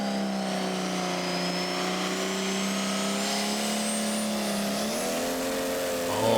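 A Valtra tractor engine revs hard and steadily through a tractor pull run, its deep harmonic drone climbing in pitch as boost builds, loud and continuous with a final surge near the end.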